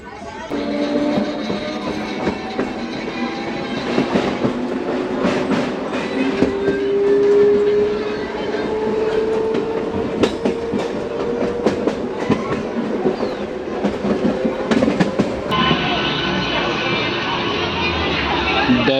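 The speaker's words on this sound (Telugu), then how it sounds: "దరోజీ స్టేషన్కి మన ట్రైన్ చేరుకుంది." A Hubli–Guntakal MEMU passenger train rolls along the rails with steady, rhythmic clickety-clack and a rumbling hum, heard from on board at close range, the tone shifting slightly partway through.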